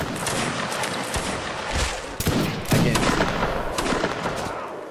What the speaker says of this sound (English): Line prepare to halt, line halt, left face, fire at will.